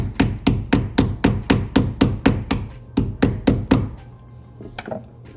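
Wooden plugs are hammered into old door-hinge screw holes: about thirteen sharp, evenly spaced blows ring out close and loud, then stop, leaving faint room noise.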